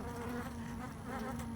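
Honey bees buzz inside an open hive being inspected for a new queen in her cage, a close, dense, steady hum with no voices.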